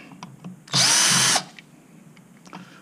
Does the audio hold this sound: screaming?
no